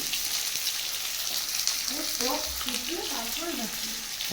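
Fish sour curry cooking on a clay stove in a village kitchen, a steady bright sizzle and crackle of frying with a brief low thump, while a voice murmurs faintly underneath.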